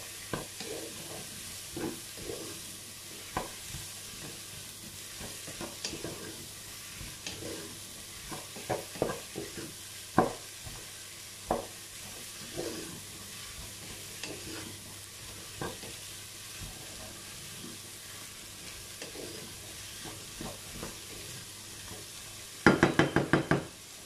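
Pork chops brown in a pan with a soft, low-level sizzle, broken by intermittent knocks and scrapes of a utensil against the pan, with a louder clatter near the end.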